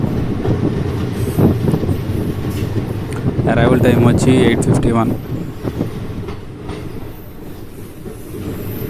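Vijayawada–Macherla passenger train rolling on rails, a loud steady rumble with clickety-clack and a burst of wheel squeal midway, under a voice talking.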